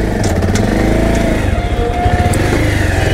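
A motorcycle being ridden indoors, into a photocopy shop with living quarters behind it. The engine runs loud and close with a steady, throbbing idle that rises slightly as it moves, and there is no talk.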